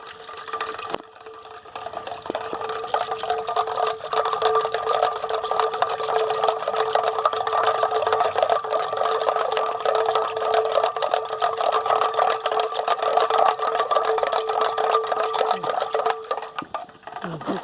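Kitchen mixie grinder blending buttermilk with rock salt, a loud steady whirring drone that runs nearly continuously after a brief start, close and alone.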